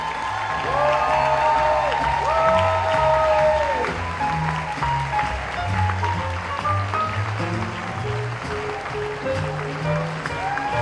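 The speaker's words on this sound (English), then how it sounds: "Let's bring everyone back on stage for a final bow and one last round of applause." Sustained audience applause at a seniors' talent show as performers take a final bow on stage, a steady wash of clapping over held music tones that lasts the whole stretch.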